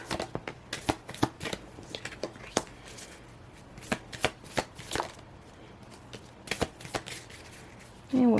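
Tarot cards being shuffled, a long run of sharp, close riffling snaps and slaps in an uneven rhythm, ending with a brief louder rustle.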